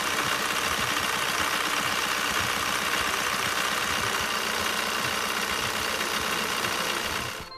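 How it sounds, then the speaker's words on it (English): TDI diesel engine idling at operating temperature, a steady, close, even mechanical rumble with a light repetitive clatter that holds level throughout and drops away at the very end. "With the engine up to operating temperature and at idle, connect to the engine control module."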